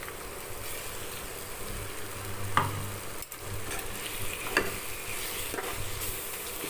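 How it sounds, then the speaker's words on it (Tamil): Coarsely ground chicken sautéing in a hot pan for chilli chicken gravy: a continuous sizzle broken by a few scraping stirs. "கொஞ்சம் நேரம் அப்படியே வதங்கட்டும்"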